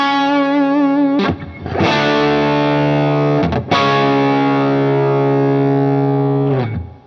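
Overdriven electric guitar tone through a Line 6 Helix modeler with the ripple control engaged, sustained distorted chords ringing out loud and alone, with brief breaks between strums and a final decay.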